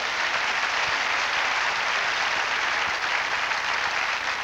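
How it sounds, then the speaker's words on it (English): A church congregation claps together during a sermon, a continuous, fairly loud wall of applause that holds even and unbroken from start to finish. "Give them a hand clap."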